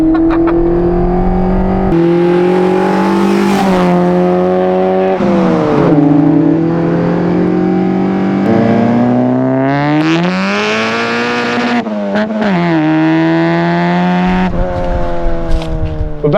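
A Vauxhall Nova tuned to nearly 240 horsepower revs hard through the gears, its engine note climbing, dropping at each shift and climbing again, loud and close from inside the car.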